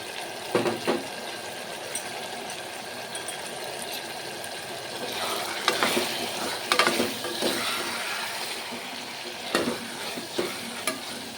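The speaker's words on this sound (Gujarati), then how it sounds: "હવે આ મસાલાને આપણે તેલમાં ચડવા દેશું" Potatoes with turmeric, salt and coriander-cumin powder fry in oil for a green bean and potato curry: a continuous close sizzle broken by several scraping stirs and light clinks of the spoon.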